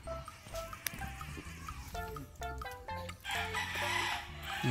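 Chickens call outdoors in a series of short, pitched clucks and squawks, fairly close, over a buzzing insect-like background hum, with no speech.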